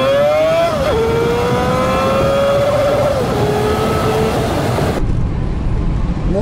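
A VAZ 2106 engine accelerating with a jerky, stumbling pull, its rising tone dipping and surging several times, loud and close with no talk.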